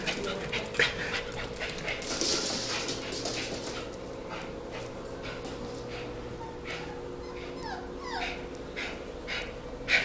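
An Airedale Terrier and a Lhasa Apso play together indoors, with close panting, quick breaths, small whimpers and yips, and scattered scuffling bursts throughout.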